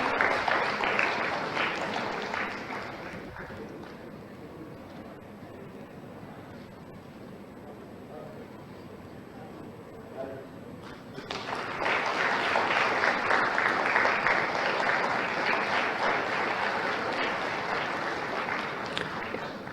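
An event audience in Gwalior applauds a district collector, loud clapping that fades into a quieter stretch of scattered claps and hall noise, then swells again into sustained, full applause to the end.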